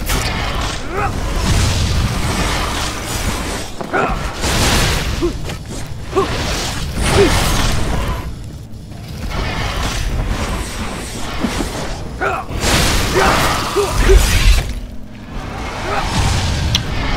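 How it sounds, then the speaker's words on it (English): Fiery spell effects in the video game Dragons Prophet: continuous dense whooshing roar with booming bursts, loud and steady across the whole stretch, with a player's voice talking over it at points. "That's not a fire breath, that must be fire effects."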